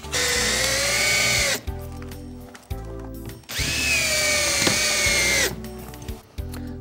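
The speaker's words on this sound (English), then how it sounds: "Now all I have to do is install screws on the starter strip at every furring strip." A power drill drives screws into a starter strip at each furring strip for Novabrik cladding, two long loud whirring runs that wind down and stop, with brief gaps of quiet between.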